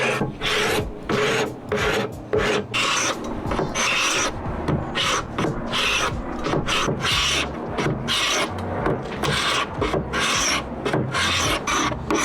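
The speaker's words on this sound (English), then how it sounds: "This tool makes the job so much easier and it removes the thick varnish with ease." A carpet scraper scrapes thick varnish off a 1930s Swedish wooden buffet in loud, close, rasping strokes that repeat at a steady rhythm with brief pauses between them, and nobody talks.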